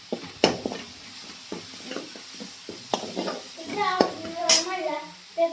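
Green chilies fry in hot oil with cumin, giving a soft sizzle broken by scraping stirs of a spoon in the pan, with a voice heard briefly in the background.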